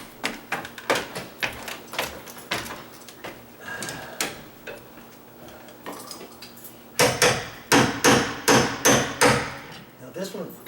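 A hammer taps a hinge pin on one of a pair of sagging double doors, sharp metallic strikes in an irregular series, then a faster run of heavier blows near the end.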